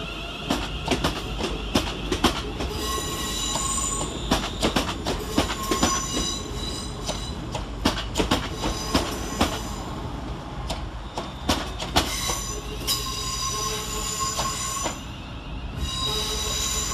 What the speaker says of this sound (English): Next train out for departure is 350-127, working the 12:18 West Midlands Railway service to Walsall.